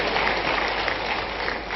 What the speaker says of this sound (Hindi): जरा ताली वाली बजाओ